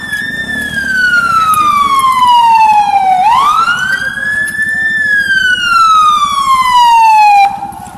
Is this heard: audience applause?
no